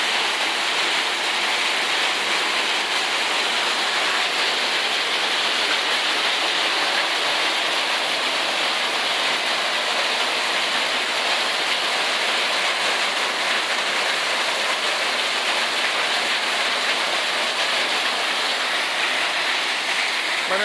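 A continuous roaring patter of hailstones and rain striking hard surfaces during a hailstorm in Taxco, Guerrero, Mexico, unbroken and loud for the whole stretch.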